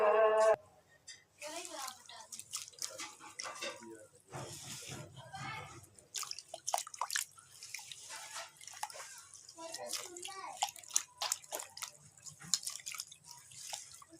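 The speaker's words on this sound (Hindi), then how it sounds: "अब हम इसमें इसको धो लेंगे अच्छी तरीके से।" Potatoes being washed by hand in a large pot filled with water, for a Punjabi aloo mathi recipe, with irregular splashing, sloshing and dripping close by throughout, and a brief voice at the very start.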